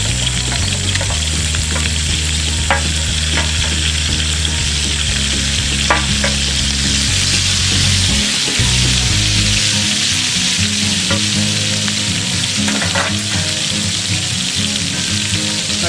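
Beef frying with carrots, onions and tomatoes in a pot over an outdoor campfire, with a loud steady sizzle, occasional stirring scrapes and a low crackling rumble underneath throughout.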